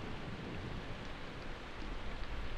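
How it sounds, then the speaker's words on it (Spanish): Rain and thunder in the video game Persona 4 Golden, a faint, dense, continuous hiss of rainfall with a low rumble underneath, no voices. "Lees el libro mientras la lluvia y los rayos bloquean, los truenos bloquean todas tus distracciones."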